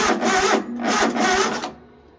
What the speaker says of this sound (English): crank it over, see what it does, see if it's pumping any fuel